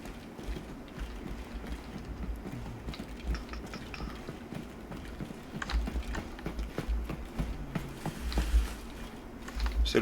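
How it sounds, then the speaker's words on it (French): Footsteps of a teammate moving behind the player in the shooter game Arena Breakout Infinite, a soft irregular run of clicks and low thuds close by, over steady game ambience with no talk. "C'est le collègue, hein, les bruits de pas là derrière."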